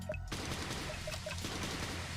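Gunfire from the video game Super Danganronpa Another 2 rattles in a dense, steady volley that keeps going throughout, with a sharp burst at the very start.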